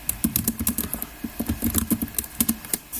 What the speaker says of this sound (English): drag a text box and just type